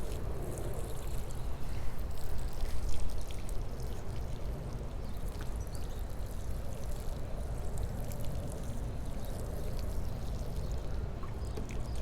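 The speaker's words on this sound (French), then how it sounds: "je vais en profiter pour arroser du coup ce que j'ai planté" Water pours steadily over freshly planted garden plants on a hot day, a continuous, fairly loud hiss and splash that keeps even from start to finish without any voices.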